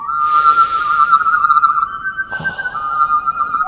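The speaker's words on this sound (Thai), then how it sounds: "มันเป็นเสียงผิวปากที่ เหมือนมีความสั่นอยู่ข้างในอะ" A wavering, trembling electronic whistle from the Incredibox Sprunki mod game holds a steady tone, breaks briefly, then resumes, loud and close with faint soft noises between, and no talking.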